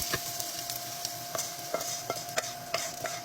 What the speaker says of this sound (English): Pour in our toasted rice mixture.